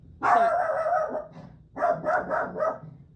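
A pet dog barks indoors in two bursts, a loud sustained bark followed after a short pause by a quick run of three or four yips, close to the microphone and with no talking.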